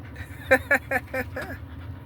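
Pit bull dogs pant and give a few short, rhythmic whimpers up close on an outing at a lakeside park with a fountain.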